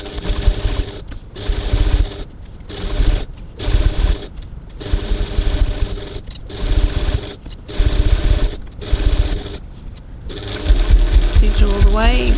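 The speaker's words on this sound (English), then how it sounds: "now I'm going to stitch 3mm 1/8 of an inch from the edge all the way along" A sewing machine runs in repeated short bursts, stitching handbag fabric close to the edge, its rapid mechanical whirr stopping and starting about every second or two.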